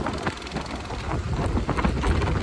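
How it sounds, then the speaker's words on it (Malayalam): Strong wind roars and buffets the microphone in a steady, loud rush that swells and dips slightly without pause. "നല്ല കാറ്റ്"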